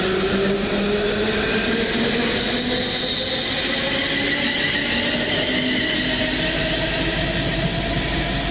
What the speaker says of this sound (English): Train now.